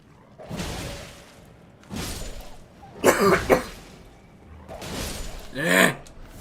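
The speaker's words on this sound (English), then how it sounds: "We're gonna keep coughing." A person recovering from the flu coughs in several rough, wheezy bursts spread over a few seconds, close to the microphone, with a throat-clearing rasp between fits.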